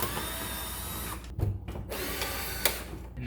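A power drill whirs steadily while removing fender bolts near the front bumper of a C6 Corvette widebody build, a continuous close buzz with brief drops and bursts as the bit catches.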